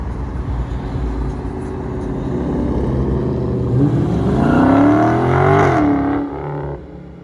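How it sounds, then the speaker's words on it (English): A Dodge Charger engine revs up hard, a loud close roar that climbs steeply in pitch over several seconds, then cuts off abruptly and leaves a low idle rumble. "Randy, your car goes crazy."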